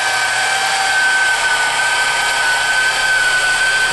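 A polisher works hard-water-stained window glass, giving a steady, close, unbroken high whine with grinding hiss that holds at an even level throughout.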